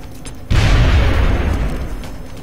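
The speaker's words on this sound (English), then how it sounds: "we're just gonna fearlessly chunk a grenade onto this guy again and hope for a kill" A grenade goes off in the turn-based strategy game XCOM: Long War, a sudden loud boom with a heavy low rumble that decays gradually over roughly two seconds.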